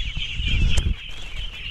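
A group of ducklings calls nearby, making continuous high, thin peeping along with scuffling and low rustling beneath it.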